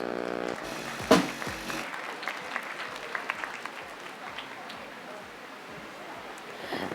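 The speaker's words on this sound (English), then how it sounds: "A huge round of applause to her" An audience at an International Women's Day event breaks into applause after a brief voice, a sudden sharp onset settling into steady, moderately distant clapping.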